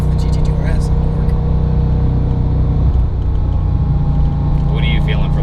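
A 2008 Porsche 911 GT2 (997) twin-turbo engine drones steadily while driving, a loud continuous low rumble with road noise filling the whole stretch, and people talk over it.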